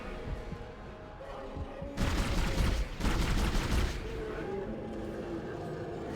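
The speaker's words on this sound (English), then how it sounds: "Plasma rifle eats him up." Plasma rifle firing during a boss fight in the video game Dead Space, a loud burst of rapid shots lasting about two seconds over a constant game background hum.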